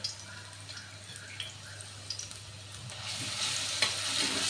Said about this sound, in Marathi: तो आपण टाकून घेणार आहे तेलात